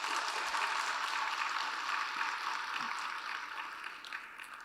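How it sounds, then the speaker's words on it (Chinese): An audience at a regional leadership training conference in Hong Kong claps together in a steady, dense wash of applause that holds for several seconds before tapering slightly toward the end. "给你们自己一个掌声。"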